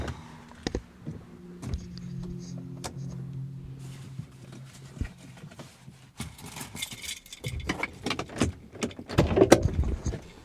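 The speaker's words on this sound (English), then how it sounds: "I'm gonna get out of the car." Someone climbing out of a car, with scattered rustles and clicks followed by a busy run of sharp, close door handle clunks and thumps near the end, fairly loud against a quiet background.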